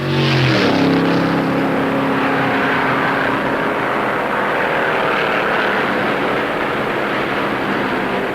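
Steady, loud engine roar of stock cars racing at Daytona as Yarborough passes Petty, a continuous droning rumble with a brief louder swell at the start, no talk.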